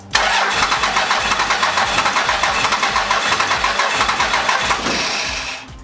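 A Cummins diesel engine cranks with a steady, rapid rhythmic churn for several seconds, loud and close, then catches near the end and shifts into a running roar.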